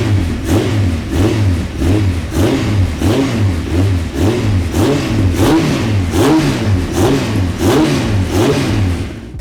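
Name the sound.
Honda Fireblade motorcycle engine revving with Micron exhaust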